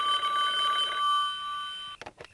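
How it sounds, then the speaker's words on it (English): A payphone in a radio drama rings with a bright electronic trill lasting about a second, followed by a fading tone and a few clicks and rustles as the receiver is picked up. "Why isn't that phone ringing?"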